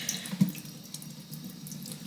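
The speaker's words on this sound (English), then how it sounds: "just going to run a little bit. It's just warm water" Warm water runs from a tap into a sink in a steady, soft, low rush with a few faint splashes and drips. It is fairly quiet and close, and no one speaks.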